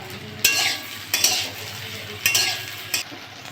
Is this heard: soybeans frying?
yes